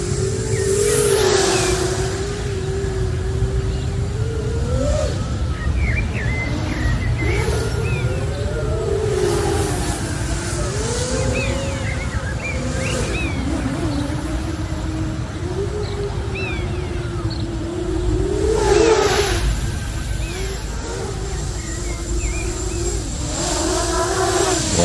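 FPV drone motors whine continuously at low throttle, the pitch wavering up and down as the craft is steadied, loud and steady through the whole stretch with wind-like noise underneath.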